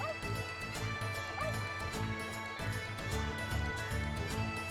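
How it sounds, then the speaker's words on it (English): A dog in a video game barks repeatedly when petted, short yips and woofs in a rhythmic series over game music. "Pet the dog."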